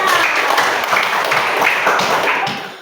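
A classroom of students claps in a dense, loud burst of many hands close by, steady for a few seconds before tapering off at the end.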